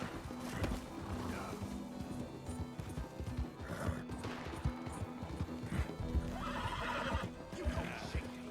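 Hooves clip-clop steadily while a Tennessee Walker horse neighs and whinnies in Red Dead Redemption, over a busy background of game sounds and occasional crashes.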